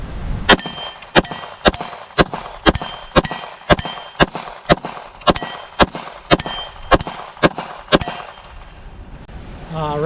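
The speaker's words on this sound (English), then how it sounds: "Let's go for the MGM Gong here." Pistol shots ring off an MGM steel gong at an outdoor range, about fifteen evenly spaced bright metallic clangs, each a sharp report followed by a ringing tone, loud and close.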